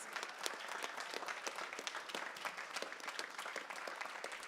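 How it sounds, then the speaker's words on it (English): An audience at a big band concert claps in a dense, continuous patter of individual hand claps, fairly quiet and slightly distant, sustained evenly throughout. "round of applause to you guys"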